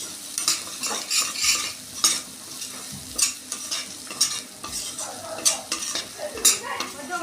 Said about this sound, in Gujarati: બધો મસાલો આપણે સરસ રીતના મિક્સ કરી લઈશું